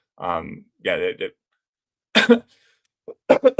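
Two or three short coughs, then a person talking briefly in a close, quiet room.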